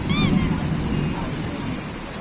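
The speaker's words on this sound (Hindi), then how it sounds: "बारिश आ रहा है इसलिए" Heavy monsoon rain on a jammed town road in Rengali, Odisha, a steady broadband hiss throughout with a brief horn-like tone at the start and no talk.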